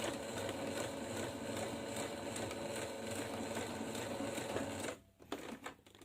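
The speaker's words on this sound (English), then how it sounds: "you're now going to be sewing through several layers of fabric" A sewing machine stitches slowly through the thick pleats and several layers of fabric of a cloth face mask, giving a steady, close mechanical whir for about five seconds before it stops, followed by a few light clicks.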